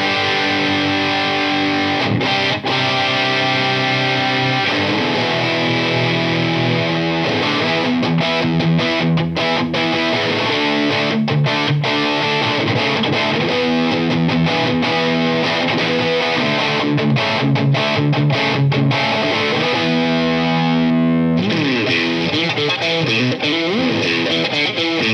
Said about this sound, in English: So let's hear some dirt first before we hear some clean tones.